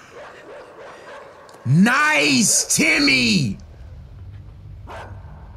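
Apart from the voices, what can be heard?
dog barking in the video game Inside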